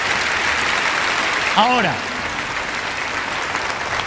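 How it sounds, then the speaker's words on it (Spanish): A church congregation applauds during a sermon, a broad steady roar of clapping filling the hall while a voice briefly speaks over it. "Denle un aplauso grandioso al Señor de señores"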